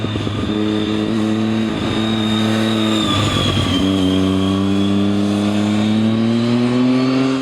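A Triumph Tiger 800 motorcycle engine pulls strongly and steadily, its revs climbing in a smooth, continuous rise with a brief dip before building again, loud and close throughout with no talk.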